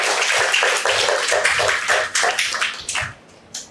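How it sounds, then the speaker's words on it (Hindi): An audience claps steadily and loudly at a Buddhist gathering, a dense wash of applause that thins toward the end with a few last scattered claps. "एक बार फिर से जोरदार तालियां इनके लिए।"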